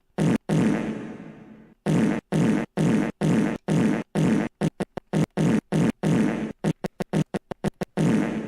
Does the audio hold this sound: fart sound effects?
yes